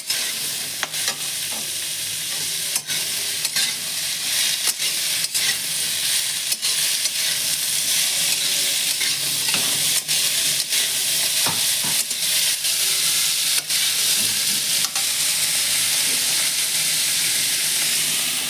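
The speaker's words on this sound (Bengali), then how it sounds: "আলগা হাতে আস্তে করে নাড়াচাড়া করতে হবে।" Boiled cauliflower stems are gently turned in a hot pan with turmeric, giving a steady sizzle and hiss broken by soft scraping stirs and occasional light clicks of a utensil, close and continuous.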